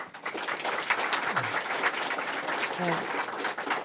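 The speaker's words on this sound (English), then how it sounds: "I want to give her a special round of applause" A government audience at a State of the State address breaks into sustained applause, a dense wash of clapping with a voice speaking over it near the start.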